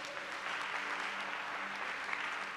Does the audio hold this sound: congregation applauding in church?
yes